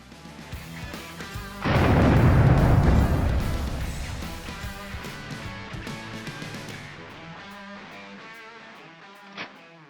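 A shotgun fires a 1 ounce reduced recoil slug into a test block, one loud close blast followed by a long fading rumble, then a small knock near the end.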